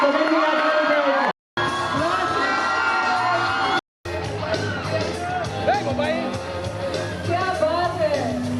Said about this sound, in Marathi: सगळ्यांनी भरपूर टाळ्या या ठिकाणी व्हायला पाहिजे